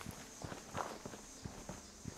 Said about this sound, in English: I was hearing footsteps.